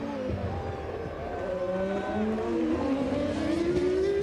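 Formula One race cars, a McLaren Mercedes and a Stewart Ford in a 1999 race, scream past with rising, shifting engine pitch that swells and recedes over steady crowd and track ambience.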